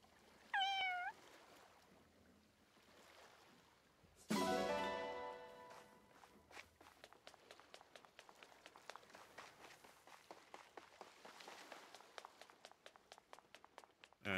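A cat in the video game Fire Emblem Engage gives a short, clear meow, followed by a burst of noise and then a run of quick, rhythmic footsteps.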